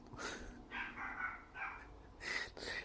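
A dog barks in short repeated yips and barks, several bursts in a few seconds, moderately close and fairly quiet, alone without talk.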